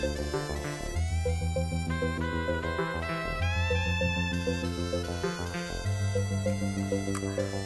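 Upbeat Donkey Kong Country 2 soundtrack music with a steady bass line, chiming melody and driving drums, playing continuously and loudly with no voices.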